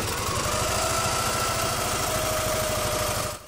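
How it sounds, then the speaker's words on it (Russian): A Ural motorcycle engine runs steadily close by with a regular low thudding beat and mechanical vibration, holding a constant note before cutting off at the end. "Хороший мотоцикл «Урал»."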